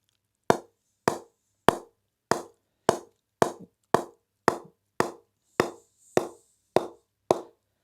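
A Gunn & Moore Diamond cricket bat is tapped for a ping test, giving about a dozen sharp, evenly spaced knocks, each with a quick decay, close and alone with no talk.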